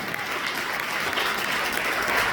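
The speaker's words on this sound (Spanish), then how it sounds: "Dale fuerte el aplauso al Señor." Congregation clapping strongly at a Spanish-language healing and deliverance Mass, dense, sustained applause from a crowd filling the space at steady volume throughout.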